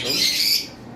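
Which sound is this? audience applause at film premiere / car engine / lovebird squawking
lovebird squawking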